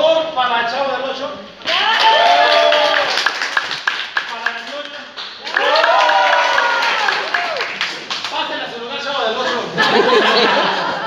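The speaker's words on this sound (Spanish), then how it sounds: "Un aplauso, por favor, para el Chavo del Ocho." Clapping and laughter from an audience at a costume contest, rising in two loud waves with excited voices shouting over it, mixed with cheers and lively chatter.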